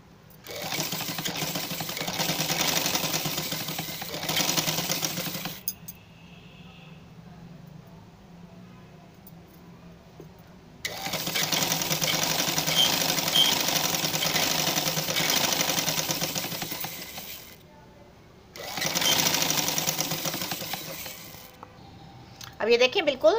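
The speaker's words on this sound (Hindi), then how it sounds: "नीचे तक बिल्कुल 1 इंच तक स्ट्रेट सिलाई लगा ली" A sewing machine stitches a peplum frock, whirring in three sustained runs with short quiet pauses between them, close and fairly loud.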